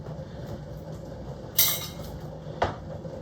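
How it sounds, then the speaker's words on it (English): Metal canning jar lids drop onto a kitchen floor, two sharp clattering hits about a second apart, over a steady low hum of the kitchen. "There goes my lids on the floor."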